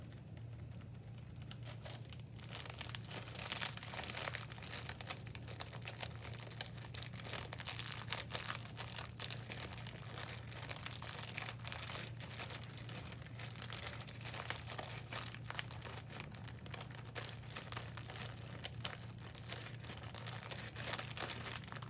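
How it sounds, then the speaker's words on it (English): Packing peanuts squished inside a Ziploc bag, a continuous crinkling and crunching of plastic with dense rapid crackles over a low steady hum, close and fairly quiet, no talking. "Now I'm going to add in the packing peanuts. I'm going to squish them up to get them to dissolve."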